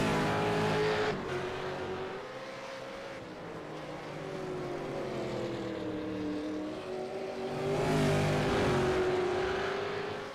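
Supercars in a sim racing game at the Montreal circuit whine at high revs, the engine pitch dipping and climbing again as they work through the first corners, heard alone without talk.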